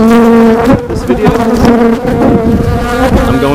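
Loud, close buzzing of many honeybees swarming continuously around a hive during inspection, a dense droning hum with shifting pitch and no voices.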